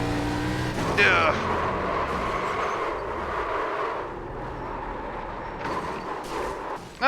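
Race cars roar through an iRacing ARCA K&N race at Dover while several cars spin out. A steady engine drone holds throughout, with a sharper surge near the start and another at the end.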